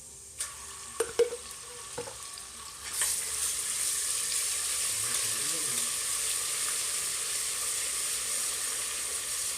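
Ginger garlic paste sizzles and fries in a hot pan with onions for beef nihari, a few clattering stirs at first, then a steady loud hiss.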